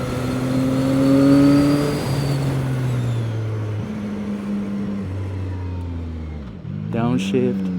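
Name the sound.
CFMOTO 675SR-R motorcycle downshifting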